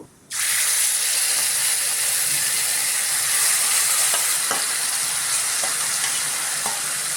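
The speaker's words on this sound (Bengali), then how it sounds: "এবার ম্যারিনেট করা মাছগুলো কড়াইতে আস্তে আস্তে দিয়ে দেব" Marinated shrimp dropped into hot oil in a kadai burst into a loud, dense, continuous sizzle and hiss close by, with a few faint utensil knocks under the steady frying.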